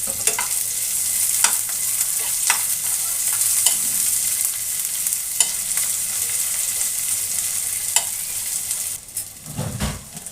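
Chopped onion fries in oil with cardamom and cinnamon, a steady close sizzle broken by scraping stirs every second or so, ending with a louder clatter, no talking.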